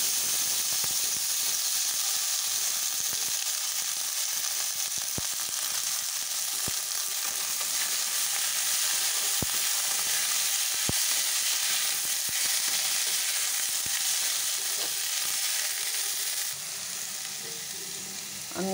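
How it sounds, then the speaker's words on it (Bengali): Bottle gourd hits hot oil with bay leaf, dried red chilli, radhuni and tempering spices, giving a loud steady sizzle and hiss close by that continues throughout, easing slightly near the end. "এবার এই লাউটা দিয়ে দিলাম।"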